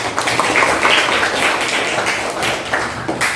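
Schoolchildren in a classroom clap their hands together in a loud, close, slightly uneven group burst that swells and eases over a few seconds, with no talking over it.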